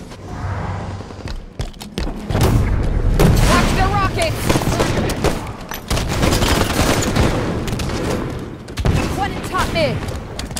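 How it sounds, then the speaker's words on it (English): Rockets explode and guns fire in a Halo 5 arena slayer match, with loud booms and rapid bursts of fire that come in dense waves close by, broken by brief lulls. "Watch the rockets!"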